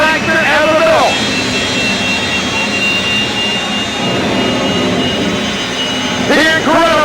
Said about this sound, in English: get ready for the most powerful jet dragster ever built